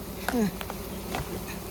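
Wild rock bees swarm around a large mountain honeycomb about three feet tall outdoors, giving a steady insect buzz with individual bees droning past close to the microphone amid background noise.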